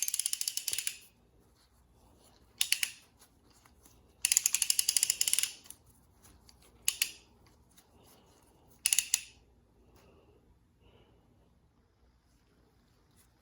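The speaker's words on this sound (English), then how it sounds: "This ratchet also gives you a full 360-degree swing" The ratchet on a brake caliper piston press clicks rapidly and crisply in several separate bursts of about a second each, with short quiet gaps between them, close up and with no one talking.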